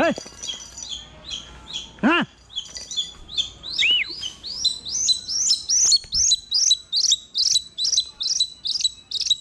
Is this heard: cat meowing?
no